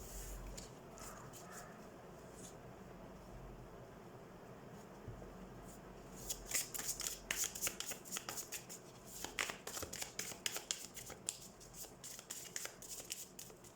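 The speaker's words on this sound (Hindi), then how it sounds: "तो सबसे पहले हम कार्ड शफल कर लेते हैं कैप्रिकॉर्न।" Tarot cards are shuffled close by after a quiet stretch. Rapid papery riffles and flicks come in a dense, uneven burst that lasts for several seconds.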